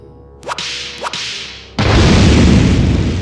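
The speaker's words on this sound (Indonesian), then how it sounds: "Cemeti berdurinya melesat, membelah udara secepat kilat, mengincar leher Jaka dengan sangat akurat" A thorned whip cuts through the air twice in quick swishing lashes, then a loud booming crash bursts in and roars on to the end.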